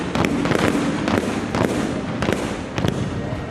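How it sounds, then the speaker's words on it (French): An artillery exchange between enemy and friendly cannons during a French Army capabilities demonstration: irregular, rapid booming blasts overlap, some sharper and closer, others more distant, with no talking. "S'ensuit un échange d'artillerie entre l'ennemi et les canons amis."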